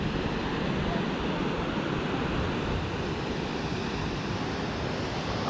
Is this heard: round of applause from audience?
no